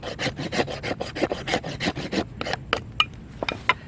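A knife shaves curls off a resinous pine fatwood stump in a run of quick, rasping strokes, loud and close, slowing into a few sparser scrapes toward the end.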